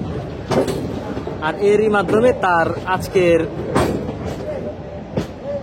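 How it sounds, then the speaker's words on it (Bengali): Narayanganj Commuter train pulling into the suburban platform at Kamalapur railway station, rumbling and clattering nearby with brakes squealing, while someone talks over it throughout. "নারায়ণগঞ্জ কমিউটার 7 এখন কমলাপুর রেলওয়ে স্টেশনের শহরতলি প্ল্যাটফর্মে প্রবেশ করছে"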